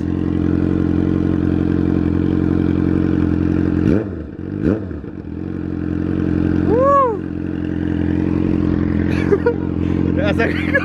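A motorcycle engine idles with a low, steady rumble, broken by a couple of quick revs that rise and fall, then settles back to idle.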